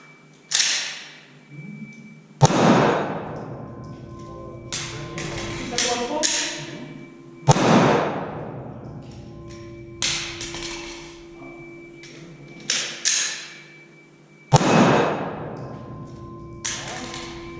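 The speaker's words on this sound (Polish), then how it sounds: "Dobycie, przeładowanie strzał." A Glock pistol fires during magazine-change drills at a tactical shooting range. Three loud, sharp shots ring out with reverberant tails, spaced several seconds apart. Lighter clicks and clacks of handling and reloading fall between them.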